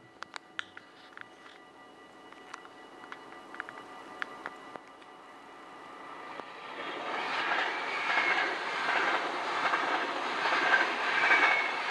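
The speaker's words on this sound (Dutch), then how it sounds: "nu komt er een trein aan als het goed is." A train approaches and rumbles past the Bavinkelsweg railway crossing, preceded by scattered sharp clicks and faint ticking, then a steadily rising broad roar that grows loud as it passes close by, with no talk.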